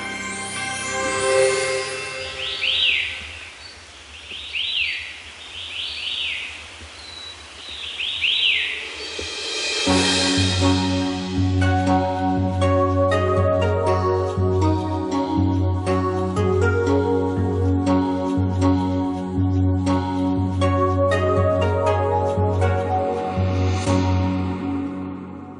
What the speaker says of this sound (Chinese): 台湾声音记忆， 观雾鸟鸣。